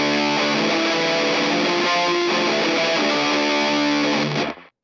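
A heavily distorted electric guitar plays a riff, thick sustained chords shifting pitch at a steady pace, loud and alone, then cut off abruptly.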